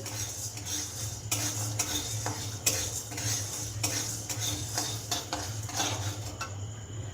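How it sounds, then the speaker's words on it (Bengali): Dal and cinnamon dry-roasting in a pan over low heat, stirred with a metal spoon: repeated sharp scrapes and clinks against the pan over a faint low hum, close and quiet, no voices. "আমি ভেজে নিচ্ছি ডাল আর দারুচিনিটা ভাজা হয়ে গেছে এইরকমভাবে লোয়েতে রেখেই আপনারা ভাজবেন"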